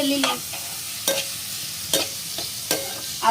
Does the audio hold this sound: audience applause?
no